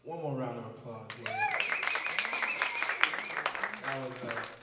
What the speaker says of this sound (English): One more round of applause here.